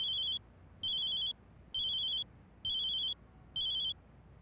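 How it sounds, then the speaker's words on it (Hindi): A phone rings with five evenly spaced electronic trills, each lasting about a third of a second and separated by short silences. The ringing is clear and close, with no talking over it. "किसका फोन है?"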